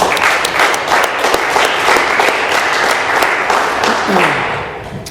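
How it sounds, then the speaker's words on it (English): Warm applause from an Alcoholics Anonymous meeting audience for a speaker, many hands clapping steadily and close by, tapering slightly as a voice speaks underneath toward the end. "Let's have another round of applause for Tim"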